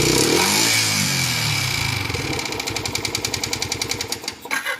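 A Yamaha R15 version 2 motorcycle with an engine noise problem, run without an oil change, cranks and starts, then settles into a rapid, uneven knocking idle, close and fairly loud, with no talking.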